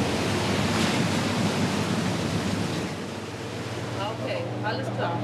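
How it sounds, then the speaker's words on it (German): High North Sea waves surge around a vessel near an offshore wind farm, a dense rushing wash with wind noise, easing slightly midway while faint voices come through near the end. "Die Wellen sind zu hoch zum Übersteigen auf die MO-1."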